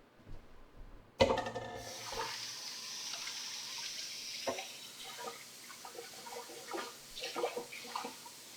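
Tap water runs into a kitchen sink while a bowl is washed during chocolate cake baking. The water starts abruptly and flows steadily at moderate level, with scattered clinks and splashes from handling the bowl.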